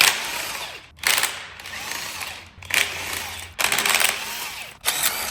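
Hand ratchet clicking in repeated bursts while bolts come off the transmission of a locked-up 1969 Ford 302 engine during a teardown, with short pauses between strokes, close and fairly loud.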